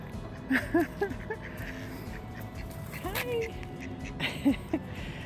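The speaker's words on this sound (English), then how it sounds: "Oh, look at these Canadian geese" Canada geese honk several times in short bursts nearby, with voices murmuring in the background.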